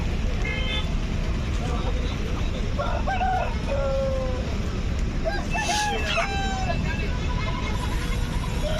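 A rooster crows a few times at a busy chicken market in Gudur, standing out over constant crowd babble, passing traffic and a car horn.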